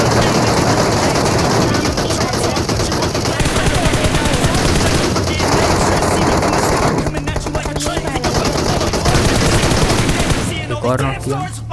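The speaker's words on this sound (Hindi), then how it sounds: "तो मैं फायर कर रहा था।" PUBG Mobile gunfire, loud close bursts of rapid automatic rifle shots with brief pauses between strings, ending in quieter game sounds and faint talk.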